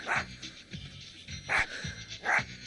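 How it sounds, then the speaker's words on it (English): A dachshund barks three times in sharp, evenly spaced yaps, close and fairly loud, with soft panting or whimpering between barks. "Sausage dog, get it?"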